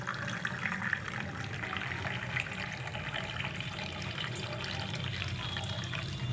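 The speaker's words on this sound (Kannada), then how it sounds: "ಈಗ ಜ್ಯೂಸನ್ನ ಬಿಡ್ತೀನಿ" A steady stream of beetroot juice pours continuously into a cup, a soft even splashing close by, with no voices.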